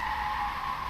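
Continuous tire screech from a multi-wheeled custom car in the sandbox game Brick Rigs, a steady, sustained squeal held at even loudness for the whole second, with no talking.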